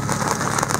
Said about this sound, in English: Okay, so the water's bouncing now and it's really, really rainy.